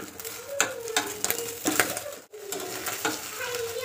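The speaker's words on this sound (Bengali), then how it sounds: "আমি ডিম ভাজা করলেই এরকম হয়ে যায়।" An egg fries in a pan with a soft, crackling sizzle. Faint scraping and stirring strokes come up now and then under the quiet, steady frying noise.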